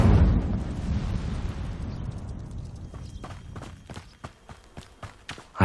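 Incendio fire spell cast in the Hogwarts Legacy video game: a loud whooshing burst of flame that fades over a few seconds, followed by a string of sharp clicks and thuds, with no talking.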